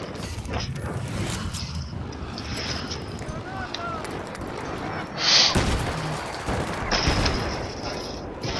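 Weapon fire in Battlefield 3, with several sharp bursts of gunfire amid a dense, noisy game soundscape, the loudest crack about five seconds in, while someone talks over it.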